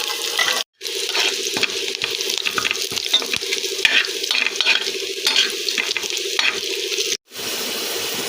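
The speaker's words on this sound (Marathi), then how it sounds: "इथं आपण तेल व जिरं एका पॅनमध्ये घेऊयात. जिरं चांगलं गरम होऊ द्यायचं. नंतर लांब चिरलेला कांदा" Long-sliced onion frying with cumin in oil in a pan, a steady close hiss with a faint sustained hum beneath and light stirring clicks, cut by two brief gaps, no voices.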